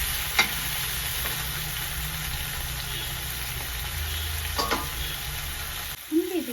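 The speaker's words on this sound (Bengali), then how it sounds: "এখানটায় গাজর, বিনস, মটরশুঁটি ভেজে নেব" Carrots, beans, peas and chopped ginger frying in a pan for veg pulao, with a steady sizzle and a few sharp stirring scrapes before the hiss drops away near the end, no voices.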